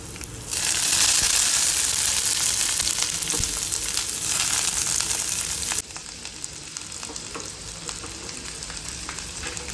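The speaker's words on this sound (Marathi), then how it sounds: "कांदा घातल्यानंतर 2 ते 3 मिनिट परतून घ्यायचे" Garlic and onion fry in a pan with a loud, steady, close sizzle that swells sharply at the start and holds, easing slightly partway through, with occasional stirring crackles and no voices.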